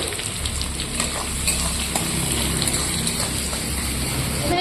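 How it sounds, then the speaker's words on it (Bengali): Chopped onion frying in hot oil with bay leaf and whole cumin, a dense continuous sizzle with faint stirring scrapes, close and steady throughout. "পেঁয়াজ কুচিটা দিয়ে দেবো।"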